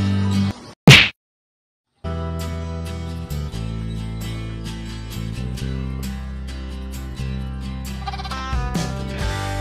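Anglo-Nubian goats, a doe and her two kids, bleat loudly and close by. A sharp cry is followed by a brief silence, then long, continuous, wavering bleats.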